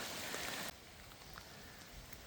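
Rain patters steadily on the camera lens during a storm with a double rainbow, a loud rush that abruptly drops to softer, continuous drizzle noise with scattered drop hits.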